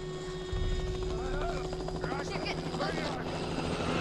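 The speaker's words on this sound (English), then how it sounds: "Oh shit, there's a chopper." A helicopter flies overhead in The Last of Us video game, with a loud, continuous rotor drone throughout and voices and game sounds layered on top.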